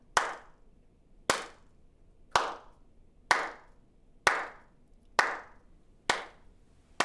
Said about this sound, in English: Let's try a simple clap.